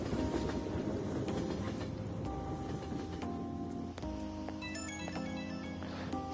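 Phone ringing in the video game Persona 5 Royal, a faint repeating electronic ringtone chime over a quiet game soundtrack, no talking.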